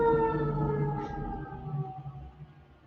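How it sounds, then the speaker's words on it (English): An ambulance siren passing by, its loud tone sliding steadily downward in pitch and fading away as the vehicle moves off, with no voices. "Pause for the ambulance on my side."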